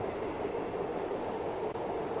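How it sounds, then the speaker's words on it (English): Inside a moving subway train, a steady rumbling drone of wheels and car noise fills the space continuously, with no voices. "this is a great just background if you ever have a scene on a subway"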